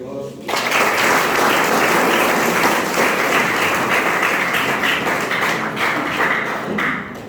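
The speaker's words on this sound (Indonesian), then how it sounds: "Mari kita beri aplaus." An audience at a seminary gathering bursts into sustained applause, a dense wash of clapping that starts abruptly and holds steady for several seconds before tapering slightly.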